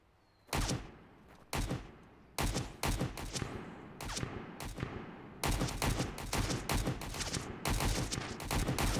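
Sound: gunfire in a survival video game

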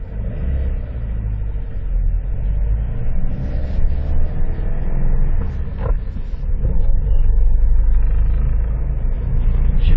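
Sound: 1989 Ford Sierra car driving

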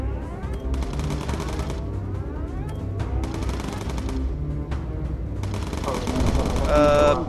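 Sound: machine gun crossfire in the video game Bomber Crew

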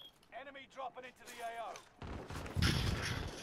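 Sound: pistol gunfire from a video game

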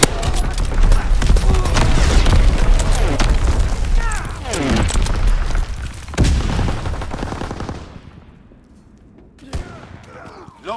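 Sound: artillery barrage explosions in video game Call of Duty WWII

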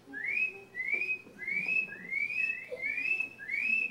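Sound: whistle imitating spring peeper frog call

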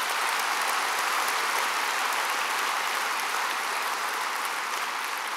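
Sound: audience applause

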